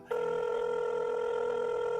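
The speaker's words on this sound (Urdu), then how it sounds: "اچانک اس کے موبائل فون کی رنگ ٹون نے سناٹے کو چیر دیا" Mobile phone ringtone starts abruptly and rings steadily in a bright, sustained electronic tone, alone in a quiet room.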